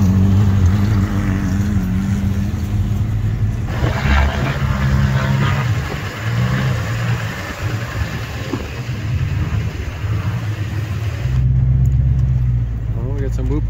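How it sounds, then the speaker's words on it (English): An off-road race vehicle crawls in low gear through deep sand over braking bumps up a hill at King of the Hammers, its engine a steady loud drone with rumbling strain throughout, and occasional voices over it. "We're in low, in through the deep sand here. With all the braking bumps, just cruising up the hill."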